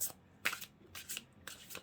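Tarot cards being shuffled by hand for a card reading, heard as quick, close riffling bursts in an uneven rhythm of about four short flurries, fairly quiet and with no talk.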